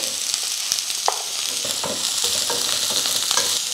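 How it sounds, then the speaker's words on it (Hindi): Shredded cabbage and carrot fry in oil, giving a constant close sizzle with scattered utensil clicks and stirring scrapes throughout. "अब हम एक एक करके सब्जियों को फ्राई करेंगे। पहले हम बंद गोभी डालेंगे, दूसरी डालेंगे गाजर"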